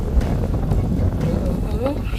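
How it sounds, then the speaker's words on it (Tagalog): Wind at the Jezzine Barracks and Kissing Point lookout in Townsville roars and buffets the microphone steadily while a person speaks briefly in Tagalog underneath. "Ayan, mahangin na, diba?"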